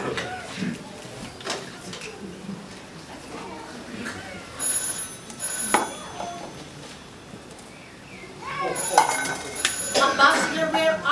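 A telephone rings repeatedly without being answered, bursts of trilling rings spaced apart, heard under and between intermittent talking.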